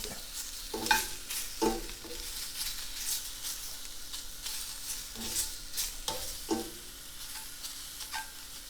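Shrimp cooking in a pan with leeks nearby, heard as a soft background sizzle broken by a few sharp scraping stirs, close and fairly quiet, with no voices.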